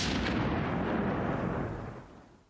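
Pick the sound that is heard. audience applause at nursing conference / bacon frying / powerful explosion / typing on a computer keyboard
powerful explosion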